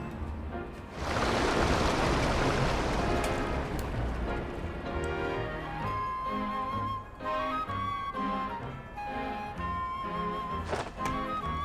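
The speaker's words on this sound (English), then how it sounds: "Look, all the water's draining through the sewers." Fountain water rushing down into the sewers in Pokemon Legends: Z-A, a broad continuous gushing wash that starts abruptly and churns steadily beneath layered game music, with a few soft knocks near the end.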